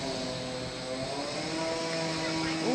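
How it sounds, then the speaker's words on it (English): A nearby electric sander hums steadily during outdoor work, a continuous buzzing whine with tonal bands that holds at an even level throughout. "we might be talking over a sander"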